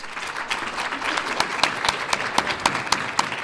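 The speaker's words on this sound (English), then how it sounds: "Let's give them all a round of applause." An audience at a healthcare summit gives a round of applause for dental hygiene graduates, a dense wash of clapping with several sharper, closer claps standing out near the end.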